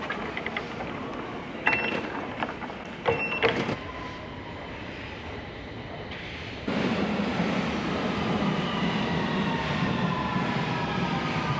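A rumbling London Underground train runs steadily throughout, with brief sharp clanks early on and the noise swelling louder partway through as it passes close by.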